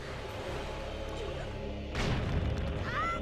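In The Wind Waker HD, a bomb blast destroys a box: a steady game ambience hums, then a sudden, booming burst lands midway, followed by a short rumbling decay and a faint chime.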